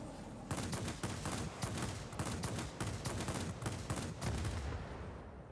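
Guns fire at attacking planes in a Wargaming video game, a rapid, sustained fusillade of evenly spaced shots over about five seconds, fairly faint and close, with no talk.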